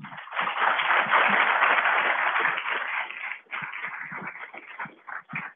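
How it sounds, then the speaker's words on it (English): A conference audience applauds its speakers at the close of a scientific session, a steady broadband clapping that swells near the start, holds for several seconds, then thins into scattered claps before fading. "give our speakers another round of applause"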